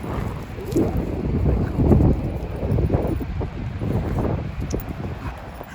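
Strong wind buffets the microphone in loud, gusting rumbles, rising and falling throughout with no voices.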